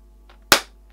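An old party popper goes off with a single sharp, loud bang that quickly decays, alone in a quiet room with no talk.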